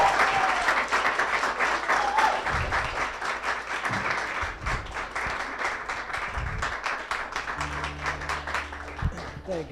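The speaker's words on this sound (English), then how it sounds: "let's bring up, round of applause, Keith Kramer, right now." Crowd applause at a business networking event as a speaker is brought onto the stage, sustained clapping with scattered individual claps, a few low bumps and a brief tone underneath near the end.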